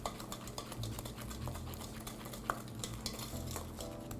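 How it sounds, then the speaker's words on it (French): A lemon cream mixture for millefeuille being whisked steadily in a bowl, a continuous scraping swish with a stronger clink partway through, fairly close and with no talking. "On va mélanger longtemps et le mélange va devenir de plus en plus blanc, crémeux, comme un sabayon"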